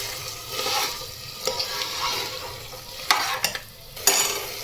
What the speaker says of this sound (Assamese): অলপ সময় ভালদৰে ভাজিব লাগিব মছলাখিনি